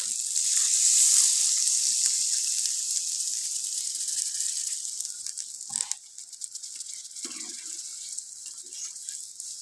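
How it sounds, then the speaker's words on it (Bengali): Water pours into a prawn and potato curry cooking on a clay stove, giving a loud, broad hiss and sizzle that fades slightly, broken by a few clinks and rattles near the end. "এখন আমি জল দিয়ে দেবো পরিমাণ মতো"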